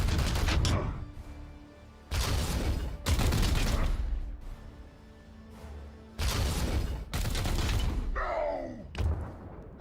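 Gunfire in the Warhammer 40K video game comes as several loud, dense volleys separated by quieter gaps, each burst a heavy wash of shots with low rumble and some voice murmur.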